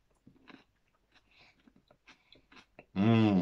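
Someone bites into and chews a mature cheddar, sliced celery and mayonnaise sandwich, a close series of crunchy bites and chewing, ending in a brief loud burst.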